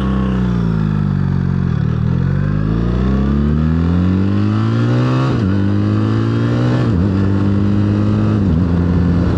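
A 2025 BMW R 1300 GS motorcycle engine pulls steadily under a rider, its pitch climbing through the gears with two clear quick-shifts, loud and close with constant wind and road roar.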